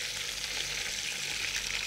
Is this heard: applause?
no